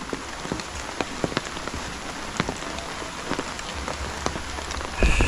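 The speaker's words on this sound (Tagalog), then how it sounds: "sana ganito lang maghapon, alalay lang na ulan" Light steady rain patters on a surface, a continuous soft hiss with scattered distinct drop taps, and a brief louder thump near the end.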